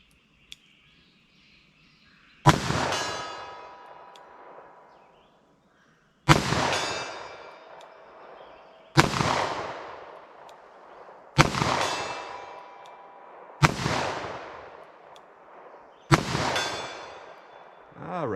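Six sharp shots from a .44 Special revolver fired at a target, spaced a few seconds apart, each a loud crack with a long ringing decay outdoors.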